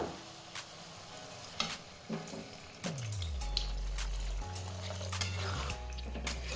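Water is poured into a pan of cooked green tomatoes, a close, rushing splash and bubbling over a quiet background, with a few knocks of utensil against the pan.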